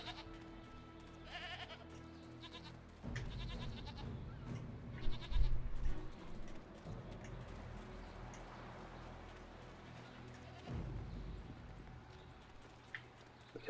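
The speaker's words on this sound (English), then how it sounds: "Some goats." Goats bleat now and then over a low soundtrack in the video game Jade Empire, with soft hoof-like clopping and ambient rumble throughout.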